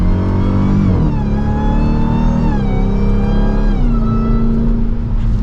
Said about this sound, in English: So we downshift again, a little bit of a delay on those shifts.